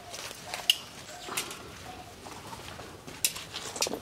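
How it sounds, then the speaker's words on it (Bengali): Pigeons coo softly at a farmyard beside waterlogged land in Dumuria, Khulna, giving a few faint, scattered calls against quiet outdoor background noise. "কবুতর আছে।"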